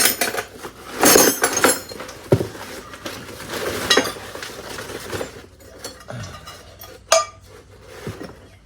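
Metal sockets and wrenches recovered from a fire being handled, with bright clinks and clanks of tools knocking together, irregular and close, a busy cluster early then scattered single strikes.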